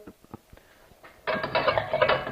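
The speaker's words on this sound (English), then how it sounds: "I'm going to build a fire under this skillet" Light taps and clinks of a skillet on a stove give way to a sudden broadband whoosh as the gas burner catches, then a steady close rush of flame beneath the pan.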